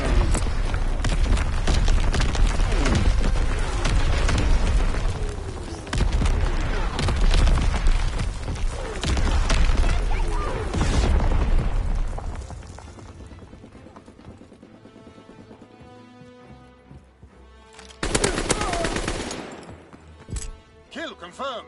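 A Fritz X guided bomb drops and explodes in a WW2 Call of Duty game, with dense booms and gunfire-like blasts rumbling through the first half, a quieter stretch, then another sharp burst of explosion noise near the end.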